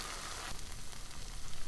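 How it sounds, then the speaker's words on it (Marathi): Thin wheat flour batter spread on a hot griddle sizzles with a steady, fairly soft crackle that swells slightly after the first half second and carries on evenly without any voices. "तवा गरम झाला आहे, त्यावर अशा पद्धतीने मिश्रण पसरूया।"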